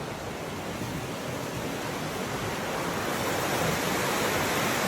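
A river flows in sunny outdoor scenery, heard as a steady, broad rushing wash that swells slightly louder toward the end, with no voices.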